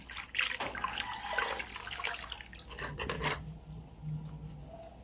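Something heavily soiled is scrubbed by hand in a basin of soapy water, with close splashing and rubbing, then a quieter wet swishing toward the end.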